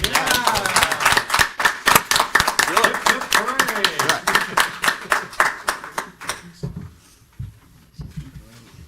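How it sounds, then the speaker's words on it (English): A small audience at a state charter school board meeting gives Michelle a round of applause, with close, distinct claps that thin out and stop after about six seconds, leaving quieter room sound. "Can we give her a round of applause?"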